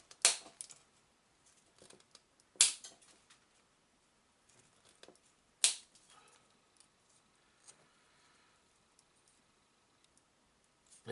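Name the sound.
snipping off miniature trench pieces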